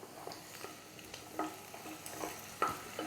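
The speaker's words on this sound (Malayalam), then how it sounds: "ഇതൊക്കെ ഒന്ന് നല്ല സോട്ടയായി വന്നിട്ടുണ്ട്." Lentils and grated coconut being sautéed in a pan for sambar, with intermittent stirring scrapes over a gentle sizzle, close and fairly quiet.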